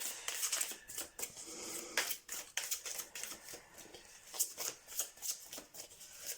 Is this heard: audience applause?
no